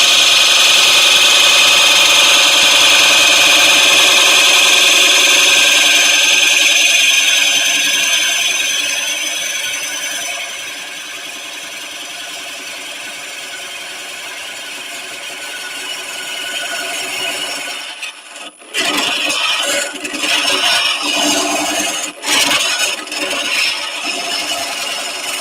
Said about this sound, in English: I'm going to use one of my Cheapo Productions carbide tools just to start cleaning out